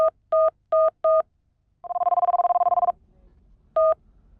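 A mobile phone being dialled, four evenly spaced keypad tones followed by a steady ringing burst, then one more tone after a pause, clear and close with no voices.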